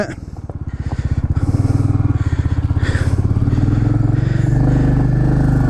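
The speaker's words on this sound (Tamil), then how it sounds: "இப்போ நான் சேகரனோட பைக்கை நான் ஓட்டுறேன்" A motorcycle engine runs steadily with a throbbing low rumble and rhythmic pulsing, heard close up from the bike.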